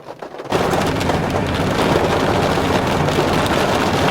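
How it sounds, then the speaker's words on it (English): Heavy rain starts suddenly outdoors on Long Island, jumping from near quiet to a loud, dense, steady downpour that hisses without a break. "here comes the rain"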